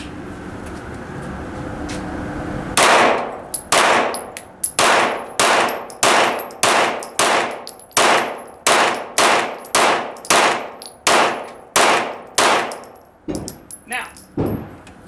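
A 9mm handgun fires a rapid string of about fifteen loud, sharp shots at close range, evenly spaced after a quiet start, with metallic ringing between them.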